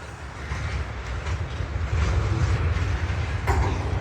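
A train backing slowly into a rail yard, a steady low rumble of railcars and wheels with faint clickety-clack, fairly close and continuous throughout.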